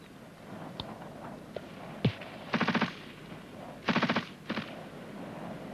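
A machine gun gives covering fire during infantry squad training, with short rattling bursts of several rounds at moderate distance, separated by pauses and a few single shots.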